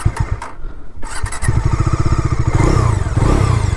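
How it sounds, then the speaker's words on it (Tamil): A Bajaj Dominar 250 motorcycle, 2025 model, engine firing up with clattering after a brief pause, then settling into a loud, rapid, throbbing exhaust idle that rises slightly as it revs, close by with no talk. "சைலன்சர் சவுண்டு நல்லா தாங்க இருக்குது."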